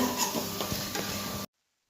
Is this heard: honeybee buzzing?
no